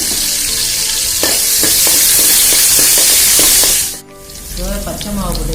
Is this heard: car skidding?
no